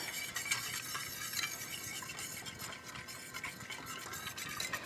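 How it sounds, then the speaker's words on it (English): Milk and whole wheat flour being stirred together in a bowl for sandwich bread, a faint, continuous light scraping and swishing close by without speech. "this is 82 grams of the whole wheat flour. So I'm just going to mix that together."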